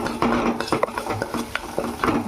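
Chili powder and turmeric being stirred into an aloo egg pulao in a pot, a quick series of close scraping and clinking stirs over a faint background sizzle.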